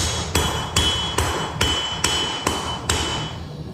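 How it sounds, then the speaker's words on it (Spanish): A hammer forges the tip of a carbon steel Bowie knife, striking loud, ringing metallic blows about every 0.4 seconds in an even rhythm, nine strikes in all, close up and without talk. "Vamos a darle los últimos golpes a la punta."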